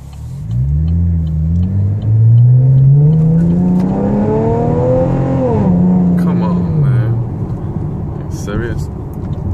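A 2013 Camaro pulls away from a red light. The exhaust note climbs loudly and steadily as it accelerates, then drops back after a few seconds while the engine keeps rumbling.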